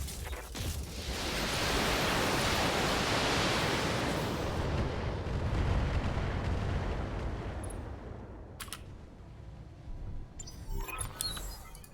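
Mech weapons firing at a Battlemaster during a BattleTech battle: a long, loud roaring wash of explosive blasts and rumble that swells early, sustains, then tapers, with sharp crackling hits near the end.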